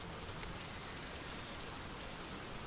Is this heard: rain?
yes